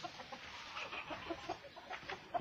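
A Silkie hen and a small white Pekin bantam rooster cluck softly in short, irregular bursts, faint and somewhat distant, with no talking.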